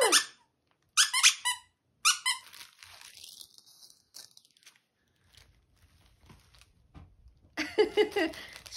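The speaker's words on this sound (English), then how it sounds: "So you get 3 candy corns, and they do squeak." Squeaky candy corn plush dog toys, sold three to a pack, give several sharp bursts of squeaking in quick clusters, separated by quiet gaps and a stretch of faint rustling.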